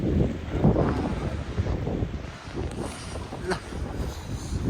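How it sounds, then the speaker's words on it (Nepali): Strong wind blows outdoors in hill country under returning sunshine, buffeting the microphone with gusty low rumbles that swell and ease, while a person speaks at times beneath it. "सो अहिले हावा चाहिँ मजाले चलिरहेछ"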